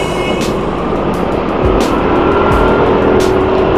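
TVS Jupiter scooter engine idling and being throttled, a loud, steady close motor drone with brief rises in pitch, no talk.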